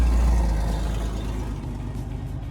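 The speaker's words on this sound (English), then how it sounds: "let that loud ass truck go by" A loud truck passes close by on a winter road in Fairborn, Ohio, its heavy low engine rumble strongest at the start and easing slightly as it moves on.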